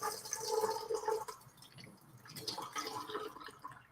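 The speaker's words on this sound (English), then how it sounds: "we're gonna pour the blue juice into our empty bucket" Blue liquid poured into an empty bucket during a live-streamed magic show, a splashing, dripping pour that fades out midway and then resumes more softly, with no talk over it.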